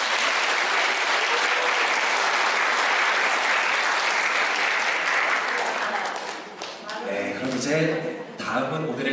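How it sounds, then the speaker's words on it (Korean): An audience at a wedding ceremony in a convention hall applauds an honoured guest, a dense, loud, sustained wave of many hands that fades after about six seconds as a voice begins speaking. "여러분 큰 박수 부탁드리겠습니다"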